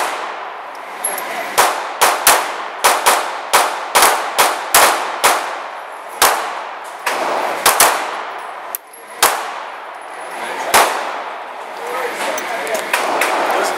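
A stainless Springfield XD9 9mm pistol fires a string of sharp, loud shots outdoors, some in quick bursts and others spaced apart, with ringing clangs and a steady background of noise between shots.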